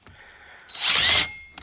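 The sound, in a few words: drilling holes in plywood with drill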